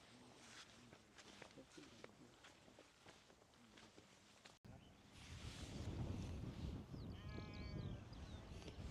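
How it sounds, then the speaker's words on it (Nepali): Sheep on the hills at Papamoa near Tauranga, New Zealand bleat in a few scattered calls at middle distance, with wind buffeting the microphone in the second half. "भेडाहरू म्या गर्दैछन्,"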